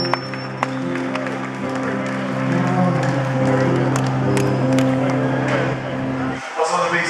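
Audience applause for a guitarist at a concert, steady crowd clapping over a sustained musical tone, with a voice speaking over it before the sound cuts off abruptly near the end.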